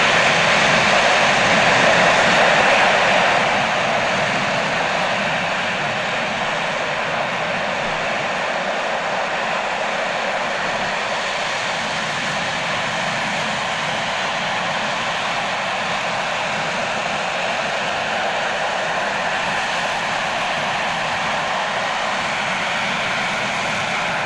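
Panavia Tornado jet roaring loudly and steadily at an airshow, a dense broadband engine rumble and hiss that eases slightly after the first few seconds and holds for the rest, with no talk over it.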